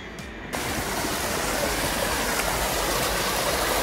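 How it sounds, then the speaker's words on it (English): Waterfalls and a rushing stream beside the Highline Trail from Logan Pass in Glacier National Park, Montana, a steady loud broadband roar that swells in after a brief quieter start and continues unbroken. "We can hear like the waterfalls."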